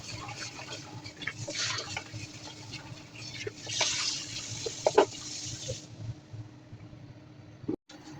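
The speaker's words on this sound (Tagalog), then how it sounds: "after natin napakluan yung karne, i-drain ito at hugasan" Parboiled meat for a hairy gourd and octopus soup is drained and rinsed under running tap water, a steady close splash and flow that rises and falls for several seconds before stopping.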